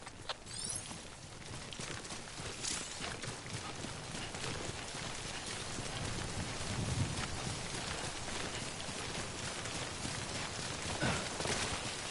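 Steady broadband hiss of timefall rain in the video game Death Stranding, a continuous wash of falling rain with scattered soft footstep-like thuds, heard alone at a moderate, even level throughout.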